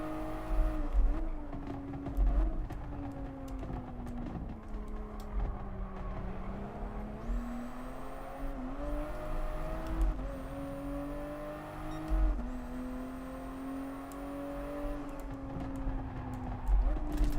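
Toyota Supra N400 race car engine in Gran Turismo Sport, a continuous droning whine that rises and falls through gear changes, with short shifts and bumps breaking the steady tone at moderate level.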